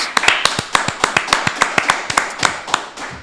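A few people clap on a talk show set, crisp close hand claps in a quick, roughly regular rhythm for about three seconds, then trailing off.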